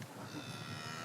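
A cow on a farm lets out a single faint, drawn-out moo that sounds somewhat distant, with no talking.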